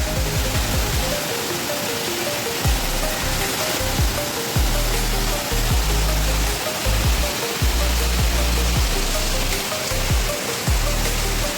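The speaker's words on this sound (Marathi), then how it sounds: "खूप छान वाटतंय पण पहिला पावसाचा आनंद." First monsoon rain pours down outside a home, a dense, loud, continuous hiss with scattered low thuds of heavy drops, steady throughout with no voices.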